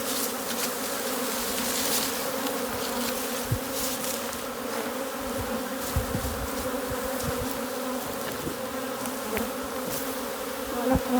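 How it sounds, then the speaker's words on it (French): Honeybees swarming around and settling on a beekeeper make a steady, loud droning buzz with close individual bees whirring past, continuous throughout and with no talking. "Les abeilles sont installées sur moi et je les amènerai dans la ruche."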